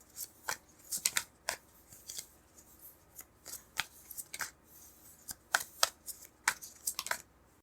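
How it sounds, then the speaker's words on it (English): Tarot cards being shuffled and drawn from the deck give crisp, close, quiet riffles and snaps in uneven bursts, with brief pauses between and no voices. "So let's pull out some cards."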